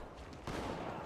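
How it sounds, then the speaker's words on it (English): A loud, sustained burst of heavy weapon fire from a fuel rod cannon in Halo 2 erupts halfway through, a dense blast of noise following a quieter stretch of game sound. "it's a fuel rod cannon"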